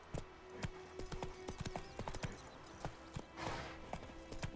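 Roach, a horse in The Witcher 3, gallops with quick, sharp hoof beats in an uneven running rhythm, fairly close and alone without talk.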